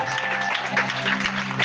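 A church congregation cheers and acclaims during a sermon, a brief wash of mixed voices and clapping with a faint sustained tone underneath.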